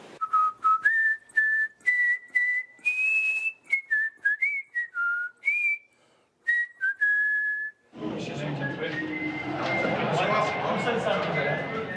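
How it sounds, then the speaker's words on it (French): A man whistles the Marseillaise, the French national anthem, in clear, close, melodic phrases with brief pauses between notes, before the tune gives way to a noisy crowd or room murmur for the last few seconds. "Le mec, il sifflait la Marseillaise."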